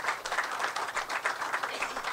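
A round of applause at an outdoor police station groundbreaking for a soon-to-be delegate, heard as a brief, fairly faint but steady wash of clapping with no talk.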